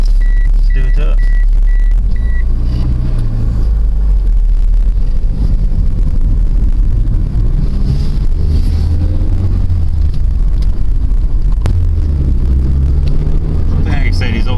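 An old Ford Escort being driven after a dropped valve seat repair with a new timing belt and exhaust work, a loud continuous low engine and road rumble inside the car with wind noise and shifting engine tones, with people talking over it.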